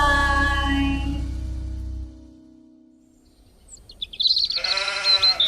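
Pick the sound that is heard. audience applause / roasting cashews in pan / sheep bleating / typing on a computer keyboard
sheep bleating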